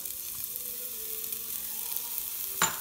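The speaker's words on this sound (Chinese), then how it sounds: "我在个锅里加了些少油，然后落了姜片，先爆一爆姜" Ginger slices sizzling in a little hot oil in a pot, the start of a Cantonese-style mixed vegetable soup: a soft, steady hiss that ends in a brief sharp clink of a utensil near the end, with no talking.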